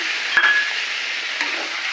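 Mustard paste fries in a pan with a close, steady sizzle and a couple of brief scraping stirs.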